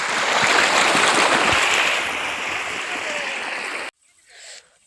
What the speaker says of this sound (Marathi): आता बघा किती फेकू लागली पाणी.